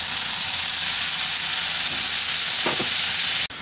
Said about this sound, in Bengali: এক দুই মিনিট এটাকে একটু তেলের মধ্যে ভালো করে নেড়ে নিচ্ছি